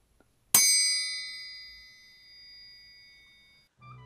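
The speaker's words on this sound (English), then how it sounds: "if you hit it with a soft mallet, it'll ring like a bell." An oboe bell struck once with a soft mallet gives a sharp attack and a clear metallic-sounding ring with sustained overtones that decay slowly over about three seconds, close and alone, ending in a faint handling noise.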